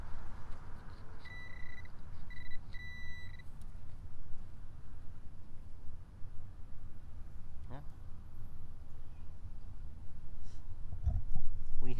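A Garrett AT Pro or Minelab Equinox 800 metal detector sounds a few short repeated high beeps near the start, followed by a person talking over rustling and digging noise at a 1920s home site.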